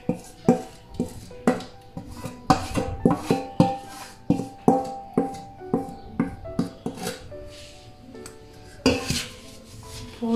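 A ladle clanks and scrapes against a bowl while dates are mixed into cake batter, in a sequence of sharp, uneven metallic knocks and scrapes that are close and clear, with no talking.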